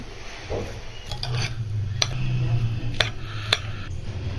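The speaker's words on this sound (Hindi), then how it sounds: "शुगर सिरप ले ली हमने, ये इस पे डाल देंगे। अलग से इनको पकाना नहीं है, इसको कर लेते हैं मिक्स।" Pheni vermicelli being stirred and mixed with poured sugar syrup in a pot or pan, with soft scraping, rubbing and a few sharp utensil clinks against the dish, close and steady.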